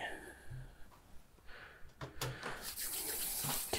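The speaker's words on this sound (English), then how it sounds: "I'll just go and wash my hands and then I'll be back in a second" A tap runs while hands are washed at a sink in a clinical examination room, with uneven splashing and flowing water that swells to a steadier gush toward the end.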